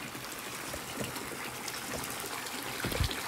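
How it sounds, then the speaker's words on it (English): Hot spring water trickling steadily from a fountain, a continuous wet splashing and dribbling that stays fairly faint and even, with a slightly fuller gush near the end. "The water coming out of the fountain?"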